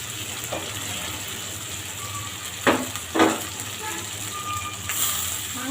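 Country chicken pieces drop into a pan of frying spice paste with cumin paste, giving a steady sizzle with two sharp, louder hisses close together as the meat goes in.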